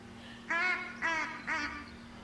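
Geese in the hunting game theHunter: Call of the Wild give three loud honking calls at even intervals over a low steady hum, with no talk.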